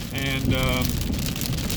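Rain falling outdoors, a dense, steady patter close by, with a voice speaking briefly over it.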